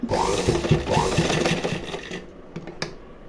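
A domestic sewing machine stitches a V-shaped line on a hook-and-eye strip, a fast busy whir for about two seconds that then stops, followed by a few light mechanical clicks.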